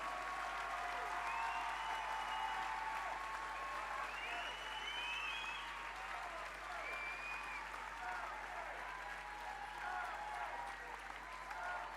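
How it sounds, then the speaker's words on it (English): Audience applause at a white collar boxing event in Singapore, a dense sustained wash of many hands clapping under a constant low hum, with scattered whistles and cheers rising above it throughout. "I think they deserve a massive round of applause"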